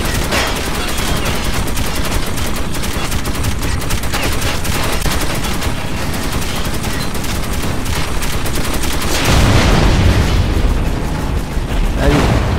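Dense, continuous gunfire from a firefight in the Metro 2033 video game, loud and sustained with bursts throughout and heavier blasts near the end, with voices talking over it.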